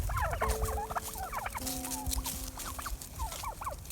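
Several turkeys gobble in quick bursts, overlapping and repeating over a low steady background hum.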